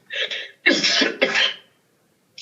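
A few harsh coughs close by, two quick bursts then a longer pair, followed by silence and a faint short sound at the end.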